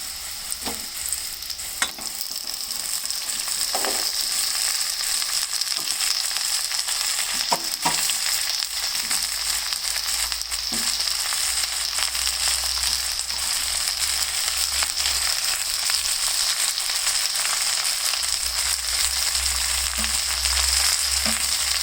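Cabbage frying with golden onions in a pan gives a steady, loud sizzle throughout, with occasional scraping stirs and crackles and no talk.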